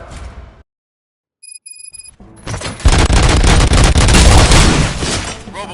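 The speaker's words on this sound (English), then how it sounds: "Gunshots? What's going on?" Gunfire and explosions in the Robocop Rogue City video game burst in after a short silence and a brief electronic tone, becoming a loud, continuous barrage of shots and booms.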